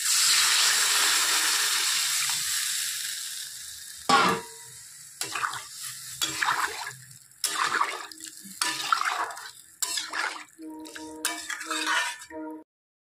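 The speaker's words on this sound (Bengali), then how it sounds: "এখন আমি এখানে ঝোল দিয়ে দেব একটু।" Broth is poured into a fish curry with taro and semolina in a pan, making a steady rushing, sizzling wash for several seconds. Scattered metallic clinks and stirring scrapes follow, close and clear, with no speech.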